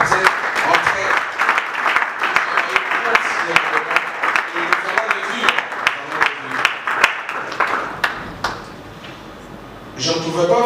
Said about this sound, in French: C'est comme ça que l'auditoire, ensemble, nous allons vous applaudir